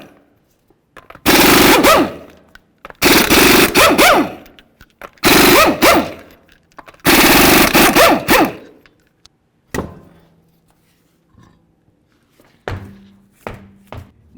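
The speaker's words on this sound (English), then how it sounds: "we're going to remove all 5 of our 19mm lug nuts and then the wheel" An impact wrench zips 19mm lug nuts off a 2006-2010 Ford Explorer wheel in four loud, rattling bursts, each a second or more long, followed by a few faint clicks and clanks as the nuts and wheel are handled.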